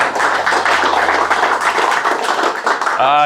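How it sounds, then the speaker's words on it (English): A men's ministry gathering on a Saturday morning breaks into a steady round of applause, dense overlapping claps filling the room for several seconds before a voice begins speaking near the end. "So how about a nice round of applause for Ron?"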